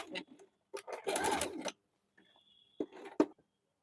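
A sewing machine stitches the side seam of a short gents kurta in short bursts, a rapid close mechanical whirr starting and stopping, with a couple of clicks near the end.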